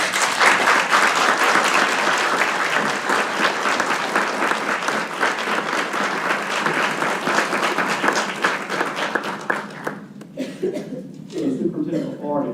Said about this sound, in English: So please come forward and accept our applause.